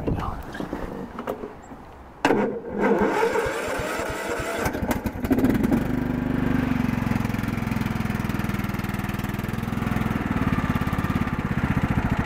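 A John Deere LT2000 riding lawn mower with its deck removed, running somewhat rough outdoors: after some handling noises and brief knocks, the engine settles into a steady, loud, continuous rumble for the rest of the time.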